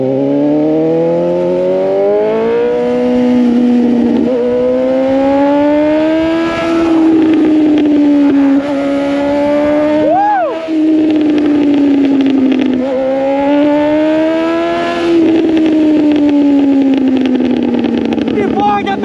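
A 2023 Honda CBR 650R motorcycle revs hard and rides, its engine note climbing and falling in long sweeping pulls, loud and close throughout with brief dips between shifts.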